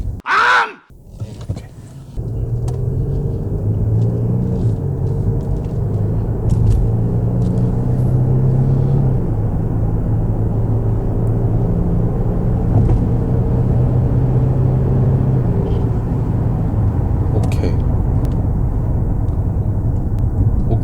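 Genesis EQ900 sedan from 2016 driving, a steady low engine and road rumble heard from inside the cabin as it accelerates and slows, continuous and fairly loud after a brief knock at the start.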